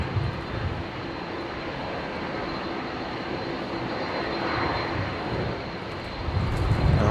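An airliner taxiing under its own power at Brisbane Airport, a steady, moderately distant engine drone and hum that swells slightly toward the end.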